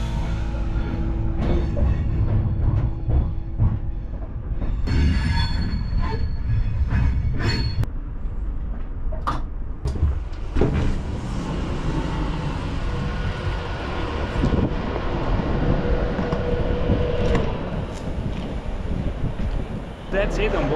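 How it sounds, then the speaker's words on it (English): Avanti West Coast intercity high-speed train running from London to Glasgow, a steady loud onboard rumble with wind-like roar and rattling carriage noise throughout, with brief faint voices in places. "That's it on board of this Avanti West Coast from London to Glasgow."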